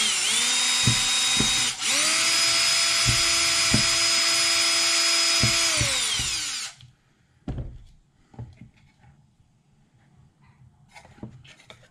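Ridgid power drill driving screws during robot building, a loud sustained whine running for about six seconds with brief speed dips, then winding down into scattered quieter clicks and handling knocks.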